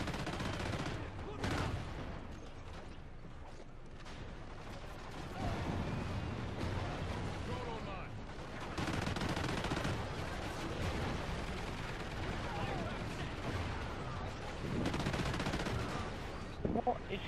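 Sustained video game gunfire fills the span, with machine-gun-like rattles and heavy impacts in a busy, fairly distant-sounding mix, with voices talking intermittently beneath.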